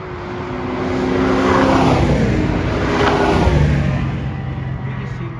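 Race cars accelerate past on a raceway track, engines swelling loudly to a peak and fading as they roar by at close range.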